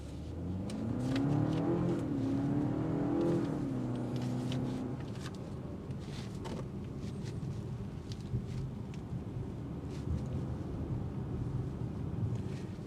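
A 2026 BMW 530i rear-wheel-drive sedan accelerates hard on a test drive, its engine note rising and climbing steadily for several seconds before settling into a continuous road and wind rumble, heard from inside the cabin.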